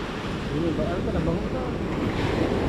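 Ocean waves and wind at sea during an attempted crossing by boat, a steady broadband wash of surf and gusting wind noise rumbling continuously and fairly loud throughout, with no talk.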